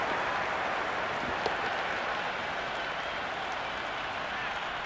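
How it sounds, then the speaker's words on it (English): Steady crowd applause and cheering in the cricket video game Cricket 26 during an India versus New Zealand match, a dense, continuous wash of noise that holds for the whole stretch with no clear individual claps. "the excitement emanating from this crowd at the moment."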